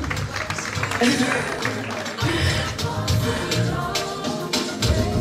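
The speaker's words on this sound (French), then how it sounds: "je vous demande de l'applaudir chaleureusement" Audience applause at a charity gala in Brussels, continuous crowd clapping with irregular dense hits, and voices talking over it throughout.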